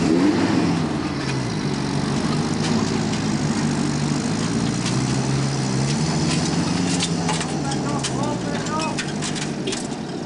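A heavier 4x4 engine drones and rises in pitch under strain while towing another car over rough Corner Country ground, continuous and fairly close, with voices talking over it.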